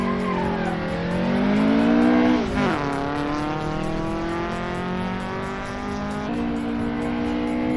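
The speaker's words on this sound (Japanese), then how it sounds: "アクセルを踏んでスタートした" A Toyota AE86 on a mountain pass accelerating away from a start, the engine note climbing through the revs, dipping at a gear change, then rising again, loud and close with no talking.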